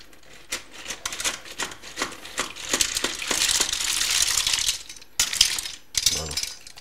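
Shells of mussels in a pot being stirred for a curry dish, giving dense clattering, scraping and crunching, close and fairly loud, with a few sharper knocks near the end.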